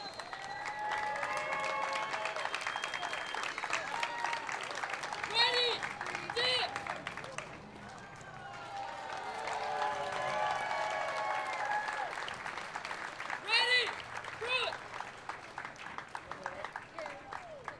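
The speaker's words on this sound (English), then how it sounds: "Round of applause once again for Temecula Valley Young Marines," Spectators at a 4th of July parade clap and cheer in sustained rounds of applause, with an announcer's voice and crowd chatter heard over and between the clapping.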